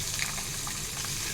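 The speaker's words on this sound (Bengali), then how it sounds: "ডিমগুলো ভাজা হয়ে গেছে, তুলে নিচ্ছি।" Eggs coated in salt and turmeric frying in oil in a kadai, a dense close bubbling hiss that runs without a break for a moment, no voices.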